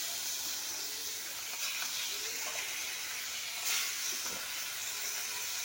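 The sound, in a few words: frying rohu fish pieces in oil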